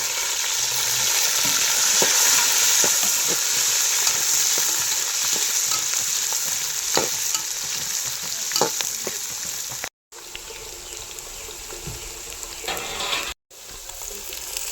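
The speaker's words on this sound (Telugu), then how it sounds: "అలాగే బిర్యానీ ఆకు, బాదం, జీడిపప్పు అన్నీ ఉల్లిపాయ ముక్కలు, పచ్చిమిరపకాయ ముక్కలు వేస్తున్నాను" Onions, green chillies, bay leaf, almonds and cashews fry in hot oil for a chicken biryani, a dense continuous sizzle with scattered scraping stirs, close and unvoiced, cut by two brief dropouts near the end.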